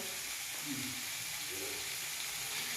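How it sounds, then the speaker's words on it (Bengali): A steady, close hiss of frying comes from a pan of spiced potatoes for a quail egg curry as water is poured in, a dense sizzle that holds level throughout with faint low bubbling underneath. "এবার জলটা ঢেলে দেবো।"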